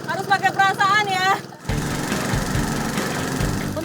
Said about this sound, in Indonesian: Untuk mempercepat proses pengurasan air, diperlukan alat bantu berupa mesin penyedot air.